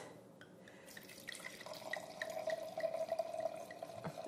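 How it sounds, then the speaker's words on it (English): Wine pours from a bottle into a glass, a faint, quiet trickle that rises in pitch as the glass fills over a few seconds, heard alone against a soft room background. "So let's just pour out a little glass."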